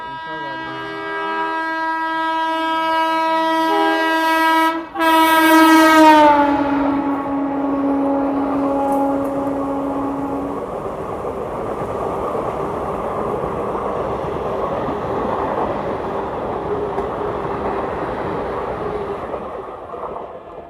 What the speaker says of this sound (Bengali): এবার বেরিয়ে যাবে ট্রেনটা এখান থেকে